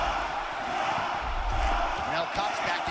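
Crowd roaring and cheering in a UFC 6 video game arena during a fight, a steady, loud, dense wall of voices filling the whole moment with passionate chanting.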